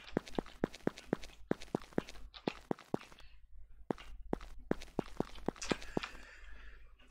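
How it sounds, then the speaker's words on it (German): Footsteps on cobblestone in the video game Minetest: crisp, evenly spaced clicks fall in a steady walking rhythm, pause briefly, then resume at the same pace with some faint background hiss. "Die Schrittgeräusche auf dem Cobblestone ist natürlich relativ laut"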